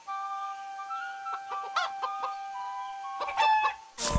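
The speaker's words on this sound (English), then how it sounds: "My chicken! The blasted chicken!" A chicken clucks in the video game Divine Divinity 2, with a series of short bright clucks over a sustained musical drone, followed near the end by a louder abrupt burst.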